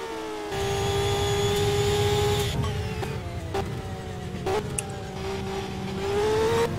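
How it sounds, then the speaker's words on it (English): A Formula Renault race car engine in the Simraceway racing game revs high and drops sharply through successive downshifts, several distinct gear changes punctuating a loud, continuous whine heard alone. "downshifting through the gears as he comes up and towards the last few corners once again"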